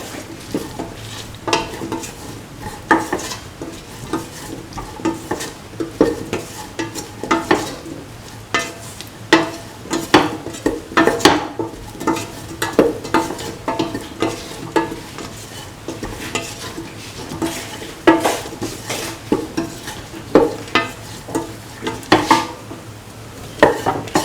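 Spices are stirred into mung bean and ivy gourd fried rice in a pan, a long sequence of rhythmic scraping and clinking spoon strokes against metal with a soft sizzle underneath, close and steady, no talking.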